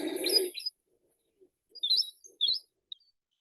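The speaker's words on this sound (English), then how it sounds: "I've got a little bit of a bit of woodlark song to play over the top." A few short, high phrases of woodlark song with chirping notes, separated by brief silences, fairly clear against a quiet background.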